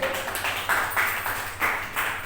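An audience claps in a steady rhythm, each clap crisp and fairly close, repeating several times in a row.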